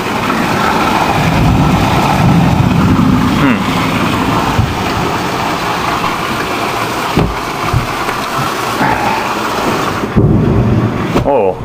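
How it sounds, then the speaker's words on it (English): Heavy rain pours down outside during a storm, a dense, steady roar filling the whole stretch with occasional rumbles, while a person talks over it. "That's how much it's raining out."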